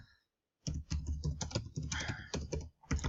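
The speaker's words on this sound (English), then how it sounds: "So let's just type in" Fingers tap a search query on a computer keyboard in quick, close keystroke bursts with brief pauses between, starting after a moment of near silence.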